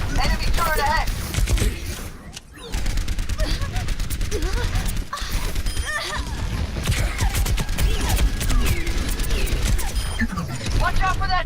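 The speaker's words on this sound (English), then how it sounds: "Watch out for that turret!" Enemy turret in Overwatch firing in dense, continuous bursts of rapid gunfire, mixed with mechanical clanks and game effects, with voices talking over the action throughout.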